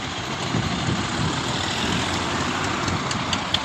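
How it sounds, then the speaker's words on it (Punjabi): Tractors gathering in long lines for a farmers' protest rumble with a steady, heavy low engine drone, close and continuous, with no talk over it. "ਆਉਣੇ ਸਟਾਰਟ ਹੋ ਗਏ ਟਰੈਕਟਰ ਬਹੁਤ ਲੰਮੀਆਂ ਲੰਮੀਆਂ ਲਾਈਨਾਂ ਲੱਗ ਚੁੱਕੀਆਂ ਨੇ"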